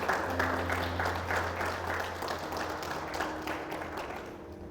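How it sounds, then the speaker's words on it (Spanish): A church congregation applauds the Lord during a sermon, with steady, fairly soft massed clapping over a low sustained tone, continuing throughout the clip. "Déles el aplauso al Señor."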